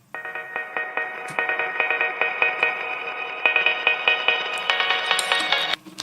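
A synth build-up effect made with the Finisher Micro plugin: rapid rhythmic pulsing tones that rise steadily in brightness and intensity over several seconds, then cut off abruptly.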